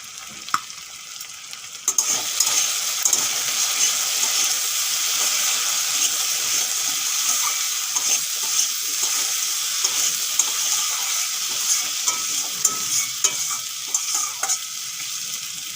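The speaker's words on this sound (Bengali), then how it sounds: "চাপা দিয়ে আমি ভালো করে এগুলো ভেজে নেব" Boiled potatoes with turmeric, salt, garam masala and chilli powder fry in a pan with a steady, continuous sizzle, and occasional stirring scrapes cut through from start to finish.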